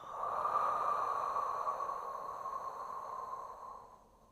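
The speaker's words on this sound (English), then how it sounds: "And breathing out." A long, steady exhale during a gentle mat Pilates breathing exercise, a soft airy hiss that swells quickly then slowly fades over about four seconds, close and alone.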